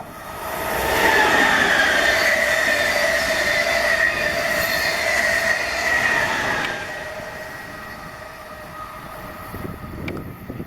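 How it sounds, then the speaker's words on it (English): A rare locomotive hauling a train past the Niantic Bay boardwalk, loud and close with humming rails and a bright squealing wheel tone, then fading to a quieter rumble as it moves away. "Hear the rails humming? There it is. Now, funny enough, this locomotive is actually quite rare to see on these tracks."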